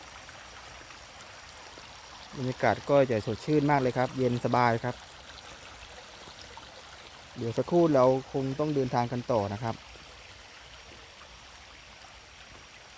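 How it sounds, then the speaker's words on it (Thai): Steady rushing water of a rain-swollen waterfall and stream fills the background, with someone talking over it in two bursts, in Sakon Nakhon, Thailand. "ตอนนี้จะเป็นน้ำตกนะครับ"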